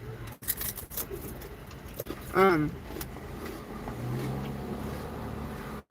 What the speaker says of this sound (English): That scared the shit out of me, that mail truck.